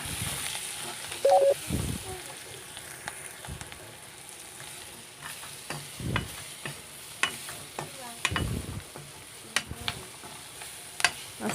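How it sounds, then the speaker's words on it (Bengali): Maggi noodles with spices stirred gently in a pan, with soft frying sizzle underneath and repeated spoon scrapes and knocks at irregular intervals, close and moderately quiet. "আস্তে আস্তে নাড়তে থাকবো"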